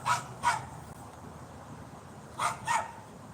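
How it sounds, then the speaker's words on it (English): A dog gives two pairs of short, sharp barks, one pair at the start and another about two seconds later. Quiet room background fills the gap and no one speaks. "He barks and we jump."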